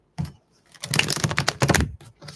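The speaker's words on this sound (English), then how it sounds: "Going to shuffle the deck real quick." Tarot card deck being shuffled, a quick close run of crisp riffling clicks and flutters after a single tap, with no talk.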